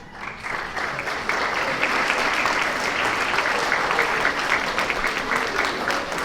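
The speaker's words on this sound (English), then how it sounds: "If you could hold your applause to the end," Sustained audience applause at a grade 4–6 school awards assembly, a dense, steady clapping that holds at even loudness throughout after a brief softer start.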